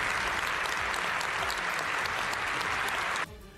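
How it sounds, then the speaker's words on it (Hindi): Members of Canada's parliament give Zelensky a standing ovation: dense, continuous applause from a large chamber that cuts off abruptly near the end. "कनाडा की संसद में सभी सांसद एक साथ खड़े हुए और तालियां बजाकर उनका"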